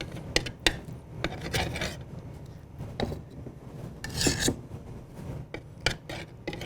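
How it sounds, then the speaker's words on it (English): Metal spatula spreading buttercream over a cake sponge, producing soft scraping and rubbing strokes in an irregular rhythm, with occasional light clicks of the blade against the cake board, close and quiet with no talk. "If we need more buttercream, just grab it with the tip of the spatula to fill in."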